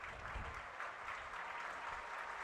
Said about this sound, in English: And a good round of applause.